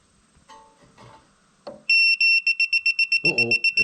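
A propane leak detector alarm, bench-tested beside an RV hot water tank, sounds off suddenly after a few faint clicks: a loud, steady run of piercing electronic beeps pulsing rapidly, with a brief burst of voice near the end.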